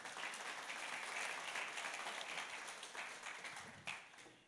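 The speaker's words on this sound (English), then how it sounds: "Yeah, you can clap." Church congregation applauding, a continuous wash of clapping at a distance, fairly quiet and even, tapering off toward the end.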